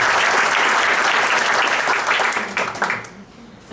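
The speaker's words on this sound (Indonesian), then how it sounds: "Ya, tepuk tangan buat kalian." A crowd at a Prudential agents' gathering in Indonesia breaks into loud, dense applause that gradually thins and fades out over a few seconds.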